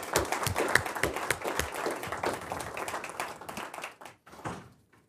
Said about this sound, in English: ask you to give them a round of applause